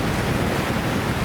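Waves of the Caspian Sea wash in with a steady surf rush mixed with wind buffeting the microphone, close and fairly loud, with no voices.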